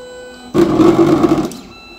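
A 3D printer's motors whir with a tonal buzz for about a second while homing before stopping, close and alone.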